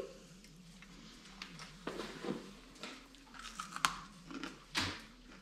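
Quiet, close crunching and chewing of freeze-dried apple, dry and brittle, with a few sharper bites standing out over soft background noise.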